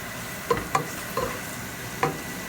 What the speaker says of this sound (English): I'm just going to mix it up in the oil, just going to fry it in there.